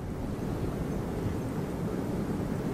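A massive Singapore Airlines Airbus A380 departs Hong Kong Airport, a steady, broad roar of jet engines with wind-like rush, constant and fairly loud throughout.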